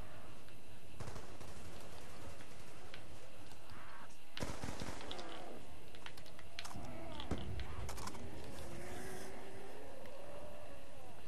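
Black Ops 2 Zombies gameplay on the Die Rise map with rapid bursts of gunfire and sharp shot cracks over a dense, continuous game soundscape, loud and busy throughout.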